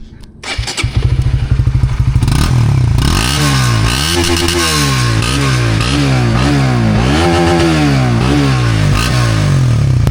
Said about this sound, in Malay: Yang ini pula bunyi kita dah tukar exhaust Umar Racing